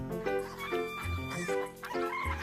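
Cartoon chickens cluck on a farm in a steady run of pitched, overlapping calls, with some music-like tones and no talking.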